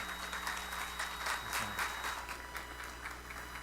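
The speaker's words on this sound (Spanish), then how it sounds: "Así que lo recibimos por favor con un fuerte aplauso." Steady applause from an audience welcoming a guest at a Dominican Republic event, a soft, even wash of many hands heard from a distance without a break.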